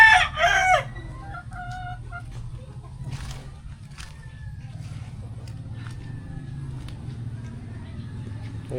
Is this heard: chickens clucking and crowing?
yes